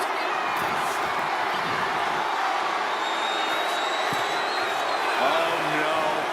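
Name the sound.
arena crowd in WWE 2K25 video game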